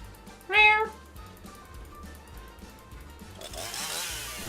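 A person imitates a cat with one short, loud meow near the start of a live stream, followed by quieter talk and a burst of noise at the end.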